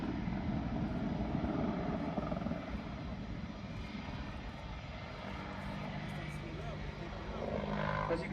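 A 10-ton aircraft, likely a helicopter given the hover it is entering, flies a display manoeuvre at the Farnborough Airshow, giving a continuous heavy engine and rotor roar that swells and eases, with a commentator talking over it.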